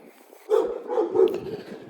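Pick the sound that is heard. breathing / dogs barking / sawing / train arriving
dogs barking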